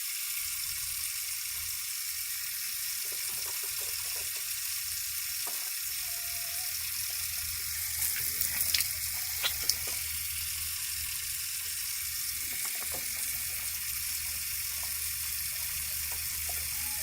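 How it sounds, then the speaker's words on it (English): Steady hiss of water running at a bathroom sink while someone rinses their mouth, continuous and moderately faint, with a few small splashes and clinks midway and no talking. "Just rinse and spit."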